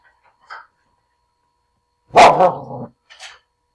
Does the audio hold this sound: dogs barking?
yes